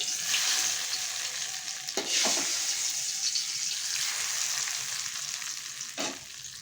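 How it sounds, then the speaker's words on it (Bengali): A tempering of dried red chilies poured into lentil dal with jute leaves gives a loud, steady frying hiss and sizzle, with a couple of brief stirring scrapes, close up and continuous. "এবার এর মধ্যে ফোড়নটা আমি ঢেলে দিচ্ছি"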